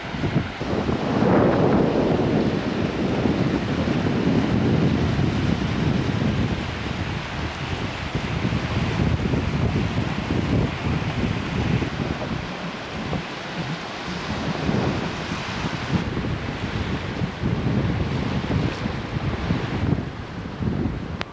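Steady roaring wind buffets the microphone over a low rumble of surf on the Baja California coast, with waves swelling and breaking continuously in the distance. No voices.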